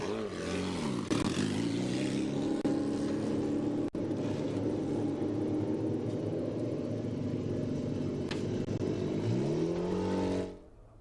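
Ligier Junior Formula open-wheel race cars pulling away from a standing field at Mid-Ohio, a loud sustained chorus of engines revving and rising in pitch for about ten seconds before fading abruptly, no voices over it.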